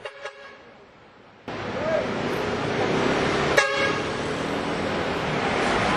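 An impatient truck driver honks at a car ahead in Cebu City traffic, with a short horn blast cutting through the steady roar of busy street traffic and engine noise.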